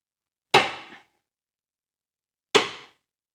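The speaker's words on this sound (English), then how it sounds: "hit it with a hammer. And then the shock is supposed to break the taper." Two sharp metallic strikes, about two seconds apart, each a hard hammer blow on steel with a short ringing decay, trying to break a taper on a Citroën C5, then silence.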